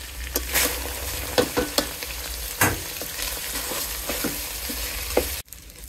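Raw rice being fried in a pot for chicken pulao, with a steady sizzle and repeated scraping stirs and knocks of a spoon, ending abruptly in near silence.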